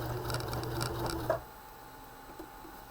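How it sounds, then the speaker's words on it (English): A Baby Lock sewing machine back stitching runs in a quick, even patter for about a second, then stops abruptly, leaving a quiet room. "don't forget to back stitch"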